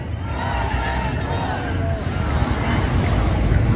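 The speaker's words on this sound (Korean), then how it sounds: "서병수고 박수와 함성 한번 보내주십시오" A crowd at an outdoor election campaign rally in Busan's Buk-gap district raises a loud, dense roar of cheering and noise that carries on throughout.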